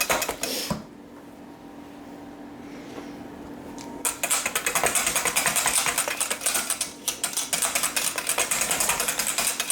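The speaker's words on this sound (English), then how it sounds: "I'm going to give this a very thorough and loud whisking" Cookie batter for Fruity Pebble cookies whisked hard in a bowl: a quiet stretch, then a fast, loud, steady clatter of the whisk against the bowl that continues to the end.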